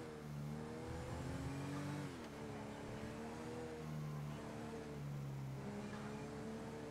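A car drives toward the freeway in GTA roleplay, its engine droning steadily, with pitch rising as it accelerates and dropping at gear changes, heard alone without talk.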